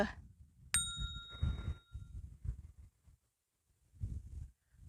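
A bright subscribe-notification bell dings once, sharp and ringing, over quiet outdoor background noise with light rustling.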